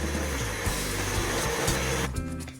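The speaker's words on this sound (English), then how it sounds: "Before giving the kitchen a good old hoover," A vacuum cleaner runs steadily and loudly up close while cleaning a kitchen, a constant roaring whine that cuts off near the end.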